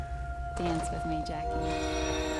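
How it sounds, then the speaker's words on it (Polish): A train in The Darkness II arrives with a rumbling rail drone and a sustained tonal horn or whistle that rises in short stepped notes, fairly loud and close. "przyjechał Jenny pociąg"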